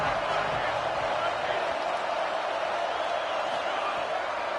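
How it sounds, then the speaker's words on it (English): A football stadium crowd at a Penn State game roars in a dense, steady wall of noise as fans get behind the defense on third down. "Decibels rising as the crowd gets behind this defense on third down."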